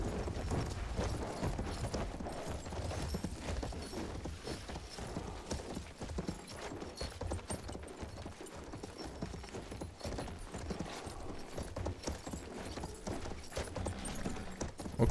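Galloping horse hooves pound in a fast steady rhythm in Battlefield 1, riding cross-country, mixed with rustling and background game sounds, fairly faint.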